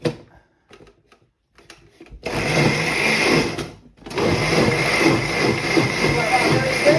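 Food processor blending a meatball mixture in a kitchen, a loud steady whirring drone that starts after a few quiet knocks, cuts out briefly, then runs on strongly to the end.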